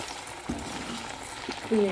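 Unnakkaya dumplings fry in boiling oil with a steady close sizzle and bubbling, broken by a couple of soft knocks or stirs.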